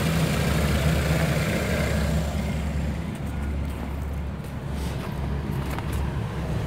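A 2007 Pontiac Vibe engine idles steadily under the open hood, a low constant hum with faint mechanical whir, close and unbroken for several seconds, no talking.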